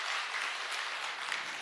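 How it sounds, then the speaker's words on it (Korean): A church congregation applauds steadily during a Sunday worship service, a dense, even clatter of many hands clapping that fills the room without pause. "이렇게 영광 박수 올려주십시다."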